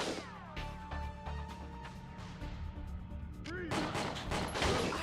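Gunfire from a shooter game, Winback: Covert Operations on PS2, with several sharp shots over a steady game soundscape, followed by a short electronic effect and a rising busy rumble.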